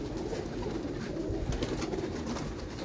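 White pigeons cooing, low soft repeated coos close by over a murmur of ambient noise, without talk.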